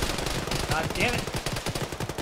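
Gunfire during an Arma 3 squad firefight, with dense rapid automatic bursts crackling steadily throughout, and a voice faintly audible underneath.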